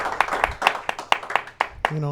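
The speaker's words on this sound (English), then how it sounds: "a round of applause for this young man" Scattered clapping rises from an audience honoring a young man at an El Monte community event, with separate claps in an uneven rhythm and voices talking beneath and near the end.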